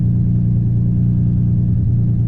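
A tuned project car with an intercooler system idles steadily and loudly close by, a constant low droning hum with no speech.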